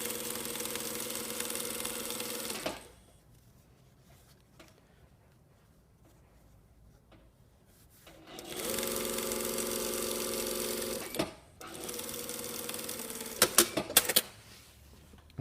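A sewing machine sews a welt stitch along the front edge of a shirt in two loud, close bursts separated by a quiet pause, the second ending with a few sharp clicks.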